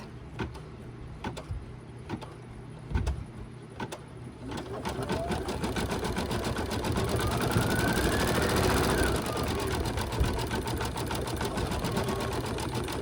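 A self-threading embroidery machine stitches the mouth of a deer Christmas ornament in a 4x4 hoop, a steady mechanical whir with rapid needle chatter that grows louder and fuller after a few seconds of quieter clicking.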